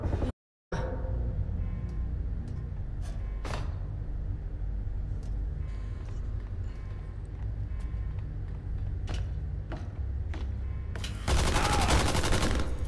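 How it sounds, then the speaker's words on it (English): Gunfire and machine guns in the Tales From The Borderlands video game crackle through the scene in scattered sharp shots, with a denser, louder volley near the end over a steady game background. "Oh God, they're all shooting everyone."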